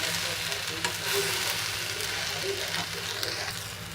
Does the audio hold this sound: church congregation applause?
no